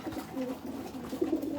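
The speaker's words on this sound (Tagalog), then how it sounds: "lalakas kumain mga kalapatids." Pigeons coo softly and continuously in a low, murmuring chorus while being fed outdoors, with a few louder coos rising near the end.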